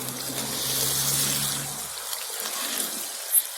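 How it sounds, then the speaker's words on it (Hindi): Water is poured into sugar in a kadhai with oil for makhandi halwa, a steady splashing trickle for about two seconds that then fades to a quiet hiss with a faint clink near the end. "अब हम इसमें पानी डालेंगे ताकि चीनी जुड़ ना जाए।"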